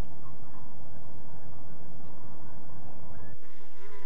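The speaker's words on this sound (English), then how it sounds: "Bees pollinate our crops." Bees buzz loudly and close, a dense droning hum that holds steady before one insect's pitch shifts near the end.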